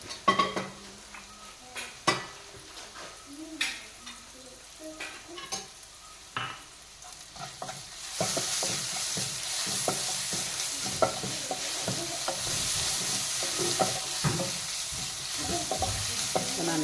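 Turmeric and ginger-garlic paste hit a hot pan after scattered stirring clinks, then a loud, steady sizzle takes over and continues to the end.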